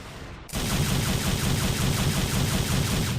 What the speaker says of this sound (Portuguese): assim que você atirar com as pistolas, você vai ouvir o som de tiro de Devil May Cry 1.